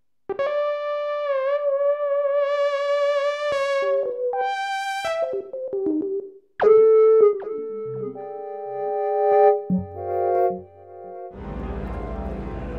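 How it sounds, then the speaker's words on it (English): Lead patches played on a Nonlinear Labs C15 synthesizer, a series of bright sustained and gliding single notes with pitch bends, ending in a short noisy burst, heard alone with no talking. "Some nice lead sounds."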